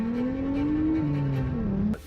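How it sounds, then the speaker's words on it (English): A drifting car held sideways at full throttle, its engine droning hard with a steady whining tone and tire squeal layered in, loud and close, cutting off abruptly at the end. "Whenever the car feels like it's getting sideways, you actually, go full throttle with it."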